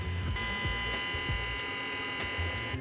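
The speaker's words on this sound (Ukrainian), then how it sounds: "вентилятор ніби як працює на супермінімальній швидкості і прям огидно пищить" The fan of a Fnirsi SAG-55 heat gun running at very low speed whines with a thin, high-pitched squeal and steady buzzing tones, close by and continuous throughout.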